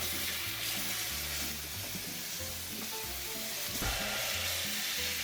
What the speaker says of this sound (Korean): 올리브도 다 잘랐고 칼 바로 씻어서